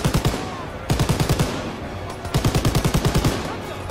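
Machine gun turret fire from the video game Call of Duty WWII, two long bursts of rapid, evenly spaced shots separated by a short pause, loud and close, with no talk over them.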